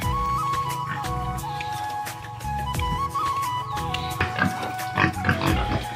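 Pigs in pens on a pig farm in Assam grunt and snort steadily, with overlapping close-up oinks over a constant background hum.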